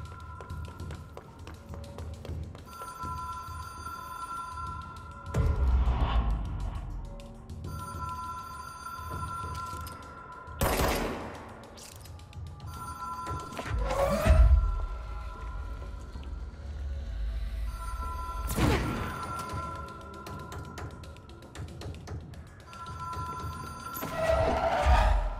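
A telephone rings in the Control video game on PS5, with repeated bursts of bell-like tones spaced several seconds apart over quiet game ambience, broken by occasional thumps.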